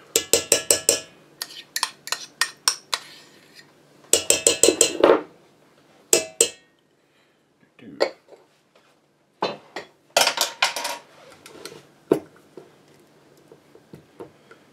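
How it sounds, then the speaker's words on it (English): A spoon stirs bread dough ingredients, including softened butter, in a bowl for tiger bread, making repeated clinks and scrapes against the bowl in uneven bursts with short pauses between them. "I'll give this a little bit of a stir just to wet everything down"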